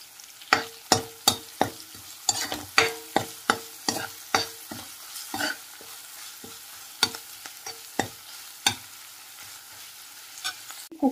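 Cooked rice is stirred into tomato masala in a hot pan, a spoon scraping and knocking against the metal in a quick irregular rhythm of sharp clicks over a soft sizzle, close and clear with no talking.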